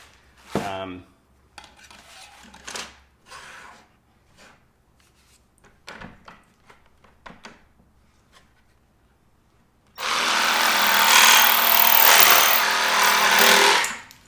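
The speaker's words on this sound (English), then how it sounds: "what I'm going to do is just cut this off with a jigsaw, this little tab" Jigsaw cutting a small plastic tab off a 2019 Sprinter van door, a loud, harsh buzzing burst of sawing that lasts about four seconds after scattered clicks and handling knocks.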